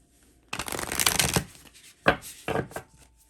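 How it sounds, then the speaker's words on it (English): Tarot cards are shuffled up close in one long riffling burst, followed by two shorter shuffles after a pause. "Let's keep pulling cards."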